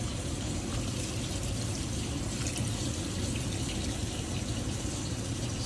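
A kitchen tap runs steadily, a broad, constant rush of water pouring close by without pause.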